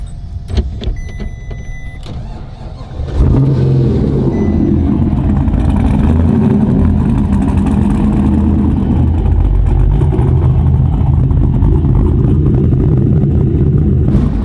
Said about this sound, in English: I've never drifted an SUV with an LS2 supercharged before, especially not in a Porsche